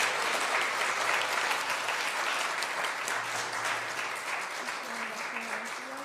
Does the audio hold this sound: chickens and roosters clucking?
no